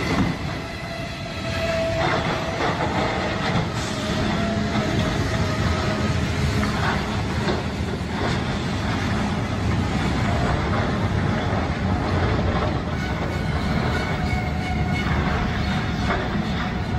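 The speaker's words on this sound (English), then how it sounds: "an oncoming train made its inevitable approach" A train rumbling steadily past a level crossing with flashing warning lights, a loud continuous roar of wheels and cars close by with faint clatter and a brief squeal, no voices.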